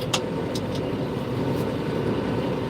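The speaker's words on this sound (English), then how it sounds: "Feeding all the cows in my big green tractor." A big green tractor engine runs steadily while cows are fed, giving a loud, continuous low rumble with a few brief higher clanks or squeaks over the drone.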